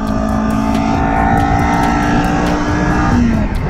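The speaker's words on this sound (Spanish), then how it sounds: "Y estira, estira, estira, estira, estira, estira. Y estira este motor." A Kawasaki Ninja 400 KRT motorcycle engine revs hard and sustained while riding, a loud, close, continuous howl that climbs slightly in pitch with no speech over it.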